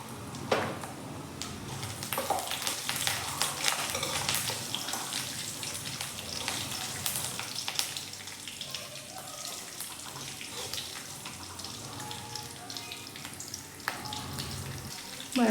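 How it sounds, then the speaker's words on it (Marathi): Chili sizzles and crackles in hot oil in a pan while beetroot laddu is being made, a steady close frying hiss with occasional pops and clinks. "बघा मिरची आणि तेल पण आपले चांगले परतले."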